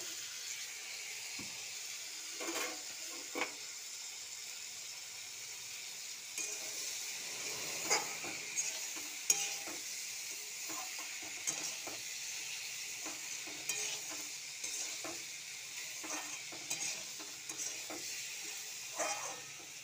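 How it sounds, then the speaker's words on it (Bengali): Vegetables and spices frying in a pan, a soft continuous sizzle with occasional scrapes and clinks of stirring, quiet and close, no voices. "সুন্দর করে একটু ভাজা হোক।"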